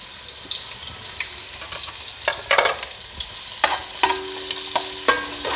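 Sliced onion browning in oil for matar pulao, a close, lively sizzle broken by repeated scraping stirs and clinks of a spoon against the pan, no voices.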